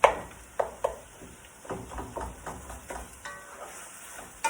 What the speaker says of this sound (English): I'm going to chop that beef down.